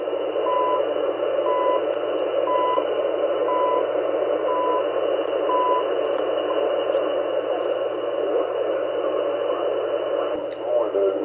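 Canadian CHU time signal received on shortwave at 14.670 MHz through an RTL2832 SDR dongle with upconverter: a steady hissy band with regular once-per-second tone ticks, continuous and fairly loud, no nearby talk.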